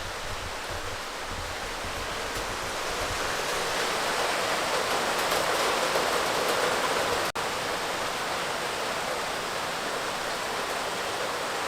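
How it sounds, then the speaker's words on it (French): Steady rain pours down outdoors in a dense, even hiss that holds for the whole stretch, with one brief sharp tick partway through and no voices. "je crois qu'il pleut"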